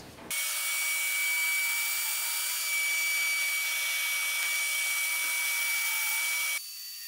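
A power drill bores pocket holes into wood for a toy box, running as one loud, steady high-pitched whine for several seconds before cutting off abruptly.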